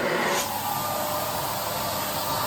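A Rowenta Compact Power Cyclonic RO3731EA 750 W vacuum cleaner runs steadily and loudly close by, a dense continuous motor whoosh that holds unchanged throughout with no talking.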